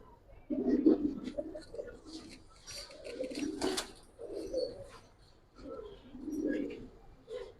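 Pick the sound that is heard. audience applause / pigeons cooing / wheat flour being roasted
pigeons cooing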